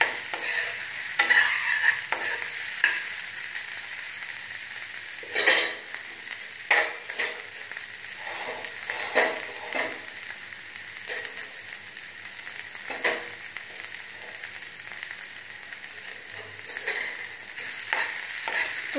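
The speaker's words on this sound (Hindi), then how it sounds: "इसे हमें पका लेना है थोड़ा सा।" Crushed coriander frying in a pan while being stirred, with soft steady sizzling and intermittent scraping stir strokes, close and moderately quiet, no talk.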